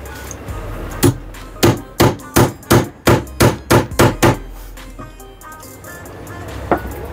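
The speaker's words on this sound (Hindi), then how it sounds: "मैं इस पर रख के इस पर चोट मारूंगा, तो इसमें अंदर की साइड चला जाएगा" A hammer taps a bearing onto the shaft of a Sujata mixer grinder, giving a single knock and then a run of about nine sharp, evenly spaced metallic strikes close by, followed by one last tap.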